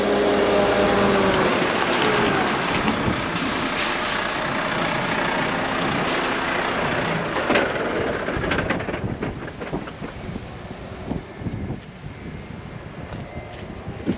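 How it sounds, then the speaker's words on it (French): A large parcel delivery truck rumbles loudly nearby, its heavy engine droning steadily at first, then turning uneven and thinner as it settles after several seconds; no one speaks. "décidément, vous avez un gros véhicule"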